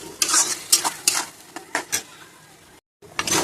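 Ginger garlic paste stirred and fried in a pan for a chicken dish, with repeated scraping strokes over a steady sizzle, a brief gap, then more stirring.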